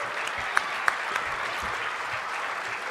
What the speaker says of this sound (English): give Sir a rousing round of applause